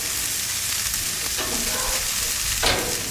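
Peameal bacon sears in a hot pan with a loud, continuous sizzle, and two brief scraping sounds come as the pieces are flipped.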